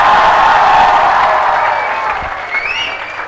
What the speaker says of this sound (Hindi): आपने इतनी तालियां बजाई, बहुत बहुत धन्यवाद।